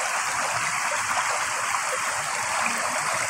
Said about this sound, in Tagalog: So ito na yung tubig dito,